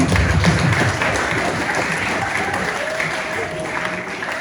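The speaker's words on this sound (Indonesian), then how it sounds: "Tepuk tangan untuk pembina kita." An audience at a school farewell ceremony for graduating ninth graders applauds steadily, a full, close sustained clapping with a faint murmur of voices underneath.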